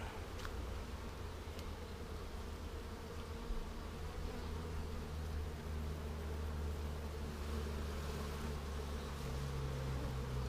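Honey bees from a package colony buzz steadily around comb full of worker brood, a dense, continuous hum that stays close and even throughout with no voices.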